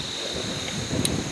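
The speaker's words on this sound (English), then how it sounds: "sorry about the wind also. I can't really do much about it." Steady wind buffets the microphone outdoors, a low rumbling rush with a faint gust swelling near the end.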